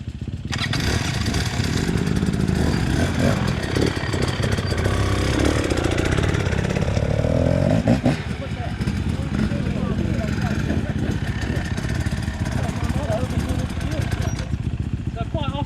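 A trials motorcycle engine revs steadily at mid pitch as the rider eases the clutch and drives the back wheel over a log outdoors, loud and continuous with clattering from the bike.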